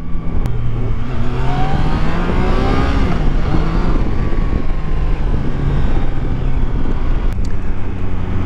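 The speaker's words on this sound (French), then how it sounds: "elle a le son du 3 cylindres" A Triumph Tiger Sport 660 three-cylinder motorcycle engine drones loudly and continuously nearby, its pitch rising and falling as the rider revs and shifts.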